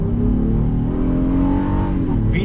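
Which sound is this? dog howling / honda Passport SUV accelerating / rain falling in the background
honda Passport SUV accelerating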